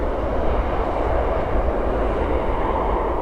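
A United Airlines Airbus A319 airliner at Toronto Pearson Airport at night sends a steady, loud, broadband engine roar that holds evenly throughout, with no talk over it.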